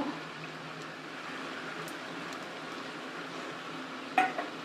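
Pointed gourd is stir-fried in a pan with ginger-cumin paste, a quiet, continuous low sizzle broken near the end by a sharp metallic clank of a utensil against the pan.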